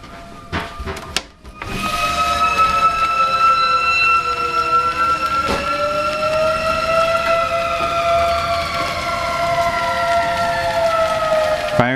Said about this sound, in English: fire siren, imminent danger signal